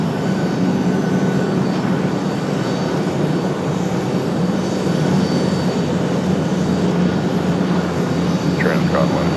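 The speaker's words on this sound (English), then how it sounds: "this one coming in from Wilmington. About a 30-minute flight for the little ATR" A small ATR turboprop airliner comes in to land at Raleigh-Durham airport, giving a loud, steady broadband engine roar that holds through the whole stretch without letup.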